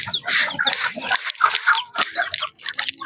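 White Leghorn chickens clucking close by, a busy run of short overlapping clucks and squawks with scratchy crunching in between, steady and lively across the moment.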